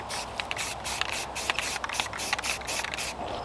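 Light coat of dark espresso brown base coat paint sprayed across dragon-shaped wall sconces, a steady hissing spray broken by short repeated bursts and clicks of the nozzle, close and alone.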